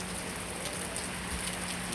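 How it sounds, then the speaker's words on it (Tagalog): Heavy rain from Typhoon Wilma pours steadily on Burias island in San Pascual, a dense, even hiss of rainfall close by with no break and no voices. "malakas na yung ulan"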